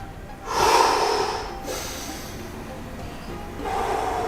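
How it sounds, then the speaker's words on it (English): Deep breathing after a home lower-abs workout, with two long, close inhales or exhales rising and falling, separated by a quieter pause. "Take nice deep breaths."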